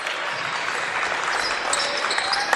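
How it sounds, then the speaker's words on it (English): Bench players clap their hands at a high school boys' Division 1 basketball playoff game in a gym, with dense, steady, overlapping clapping and crowd noise filling the whole stretch. "Warrior bench on their feet, clapping their hands, fired up."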